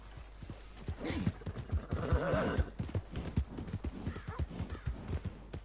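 Rhythmic hoofbeats clip-clop steadily at a trot in Red Dead Redemption 2, with a horse's whinny rising briefly in the middle, fairly quiet overall.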